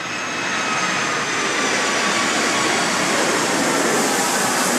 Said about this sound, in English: I also want to apologize for the airplanes.